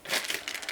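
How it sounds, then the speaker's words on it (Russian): A plastic piping bag filled with chantyflex whipped cream being twisted closed, giving a brief close crinkling and rustling of plastic. "еще раз делаем скрутку, чтобы у нас давление было в пакете достаточно сильное"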